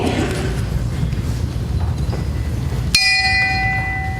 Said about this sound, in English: I toll the bell for the sixth president